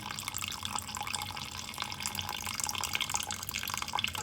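Chicken stock poured carefully from a pot into a cooking vessel, giving a steady, close liquid trickle and splash that runs without a break for a few seconds, with no talking.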